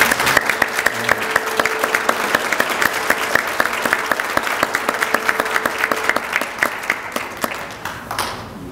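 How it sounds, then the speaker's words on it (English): Audience at a rally applauding the event organizers, a sustained, steady round of many hands clapping that fills the room, then tapers off at the end. "I just want to give a round of applause to Brian and Diane"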